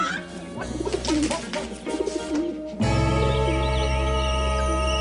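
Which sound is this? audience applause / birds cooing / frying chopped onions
birds cooing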